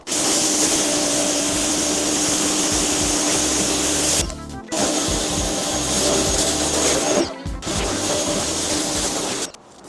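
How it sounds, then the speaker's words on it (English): A wet and dry vacuum cleaner works over a convertible car roof, its loud, steady whine continuous and close, broken by two brief dips as the nozzle lifts or shifts before resuming. "I'm going to go over this now with the wet and dry hoover and just see if I can pull anything else out."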